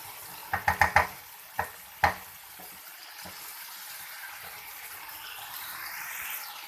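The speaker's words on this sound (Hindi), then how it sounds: "इसको फ्राई कर लिया था थोड़ा ये मसाले में, इसको अब हम भून लेंगे" Cauliflower and capsicum being stirred and roasted in spice masala in a pan, with a few sharp scraping clinks of a spoon early on, then a steady soft sizzle.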